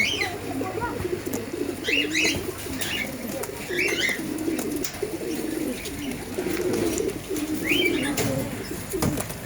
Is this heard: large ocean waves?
no